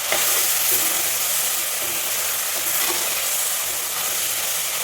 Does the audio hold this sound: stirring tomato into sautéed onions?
yes